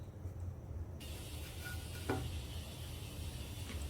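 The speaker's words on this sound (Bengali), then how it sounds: "এপিট ওপিট একটু ভেজে নেব" Slices of bread fry in butter in a hot pan, giving a steady low sizzle throughout with a brief scrape or clink partway, close and fairly quiet, with no talk.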